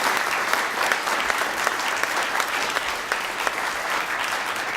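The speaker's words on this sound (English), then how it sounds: "One more time, a round of applause for Minga and for Northern" A crowd applauds an award winner and a STEM foundation at a Darwin Day gathering in Sacramento. The clapping is sustained, full and even, with a few louder claps standing out from the steady wash.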